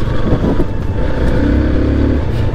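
A Yamaha motorcycle engine revs and rumbles up close, a loud, throaty drone with a brief rising surge partway through, continuing steadily without any talk.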